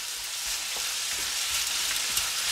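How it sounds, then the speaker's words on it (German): Diced potatoes and bacon sizzle steadily in a frying pan, a constant close hiss and crackle with no talking over it. "Und dann lassen wir das einfach mal so eine ganze Weile vor sich hinschmurgeln."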